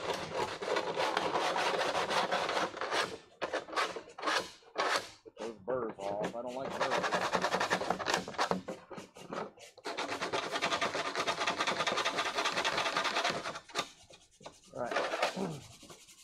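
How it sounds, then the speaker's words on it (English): Sandpaper rubs in repeated bursts of dry scraping strokes across the plastic edges of a Death Trooper armor collar, close and steady with brief pauses between passes. "let's sand it. Get those burrs off."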